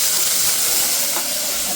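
Okra and small shallots fry in a pan, giving a continuous bright sizzling hiss that holds steady throughout at moderate loudness, with no talking.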